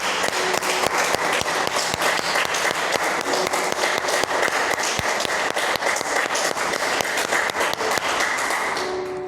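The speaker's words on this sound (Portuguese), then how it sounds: "Pode aplaudir o Senhor?" A church congregation applauds loudly and steadily, dense overlapping claps filling the space for about nine seconds before easing slightly at the end.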